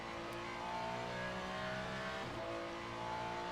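A GT3 race car in the Le Mans Ultimate sim runs at full power along a straight at Bahrain's outer circuit, a steady, droning engine note holding high revs with a brief dip, fairly faint and with no talking.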